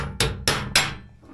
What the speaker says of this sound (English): So now I'm going to grab a hammer, maybe a screwdriver, and kind of knock this cap loose.